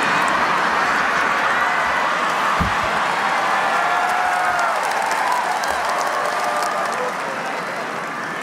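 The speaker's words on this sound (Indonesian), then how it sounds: "Publik juga memberikan tepuk tangan meriah saat Presiden Prabowo Subianto memanggil" An audience at a national solidarity declaration event with President Prabowo applauds and cheers, steady dense clapping from a large crowd that keeps going throughout and eases off slightly at the end.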